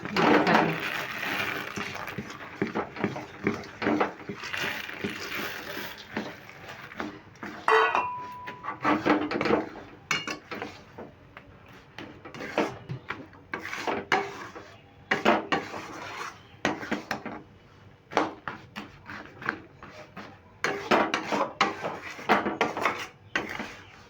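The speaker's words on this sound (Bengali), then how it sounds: "এবার আমি ছোলাগুলোকে দিয়ে দেবো" Chickpeas tipped into hot jaggery syrup and stirred in a pan, giving a busy run of close scraping, clattering spoon-on-metal strokes that continue with irregular rhythm and no talk.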